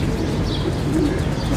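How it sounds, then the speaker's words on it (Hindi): A female pigeon of a pure pied breed coos softly in a loft, a low muffled rolling call close to the listener amid steady background hiss. "ये दोस्तों प्योर कबूतरों में से मादी पट्टी है"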